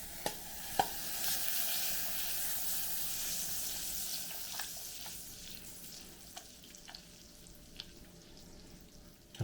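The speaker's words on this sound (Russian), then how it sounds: "Растапливаем масло." Butter melting in a warmed pan for an onion pie, a faint, steady hiss of frying with a few quiet clicks and taps scattered over it, no talking.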